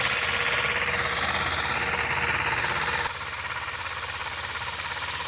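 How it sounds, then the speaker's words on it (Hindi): A Zetor 2011 tractor pulls a tiller through a field, its engine a steady, loud mechanical drone with a rattling knock, holding one pace and dipping slightly partway through. "आप इस ट्रैक्टर की आवाज़ और इंजन की चाल पर भी ध्यान दीजिए।"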